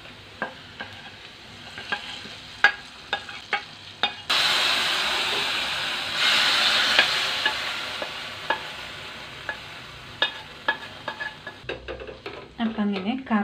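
Fried coconut bits and onion are poured into a Chinese potato and elephant yam curry: sharp spoon-against-pan taps, then a loud sizzling burst that fades, followed by more rhythmic stirring clicks.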